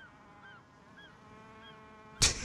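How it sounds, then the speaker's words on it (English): Several gull-like calls in the video game The Forest, short rising squawks repeated faintly over a low ambient drone, followed by a sudden loud thump near the end. "the seagulls are coming at my side too"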